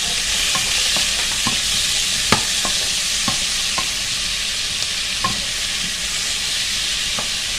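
A small piece of ginger fries with tomato and garlic in a pan for stuffed brinjal curry: a constant loud sizzle broken by sharp spoon taps against the pan.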